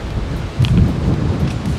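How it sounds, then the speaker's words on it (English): Gusty wind buffets the microphone on a golf course, a low, rumbling roar that swells midway through and stays steady. "So windy out"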